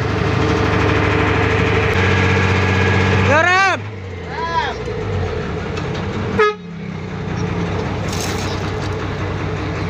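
A Mitsubishi Fuso truck's diesel engine rumbles steadily at idle while someone talks over it, with a couple of brief whistling air sounds from the air-assisted brake system partway through.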